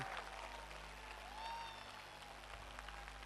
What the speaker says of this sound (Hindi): जोरदार तालियां बजा दीजिए एक बार, जोरदार तालियां दोस्तों